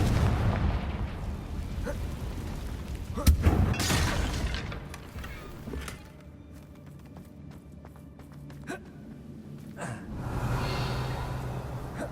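Confringo blasting spell cast in the Hogwarts Legacy video game near a damaged bridge, a sharp burst followed by a rumbling blast that fades into quieter ambience, with another swell later.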